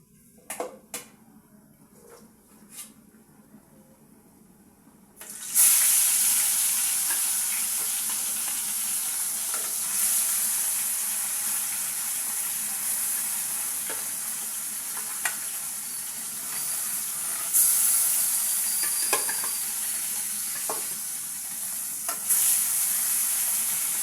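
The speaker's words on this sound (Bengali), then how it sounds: "মাছটা ভেজে নিচ্ছি" Fish frying in a pan, quiet kitchen clinks for a few seconds before a loud, continuous sizzle begins and carries on up close, broken by occasional utensil taps and scrapes, no talking.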